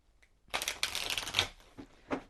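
Tarot cards shuffled in a quick riffle, a dense crackling burst lasting about a second, followed by a couple of softer taps and flicks, close by.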